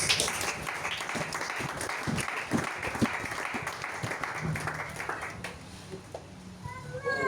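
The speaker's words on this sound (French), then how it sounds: "Est-ce qu'on peut acclamer le Seigneur?" A church congregation claps and cheers in praise of the Lord during a Sunday service, a dense wash of applause that holds steady for several seconds, with scattered voices and shouts mixed in before it thins out.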